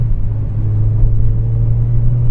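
A Honda Civic Type R FD2 four-cylinder engine holds a steady 4,000 rpm, a smooth, even drone with a strong low hum that stays constant and close for the whole stretch, with no voices.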